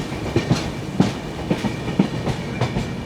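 Aboard the 12431 Rajdhani Express from Thiruvananthapuram to H. Nizamuddin, running late, the wheels beat a close, regular clickety-clack over the rail joints above a continuous rumble.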